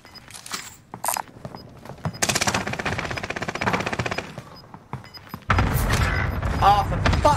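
Video game gunfire: scattered sharp shots early, then a dense burst of rapid fire in the middle and a heavy loud volley at the end, with brief voice fragments between.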